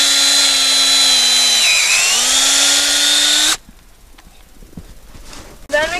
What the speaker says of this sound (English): First, we drill the hole about 2 inches in and slightly upward.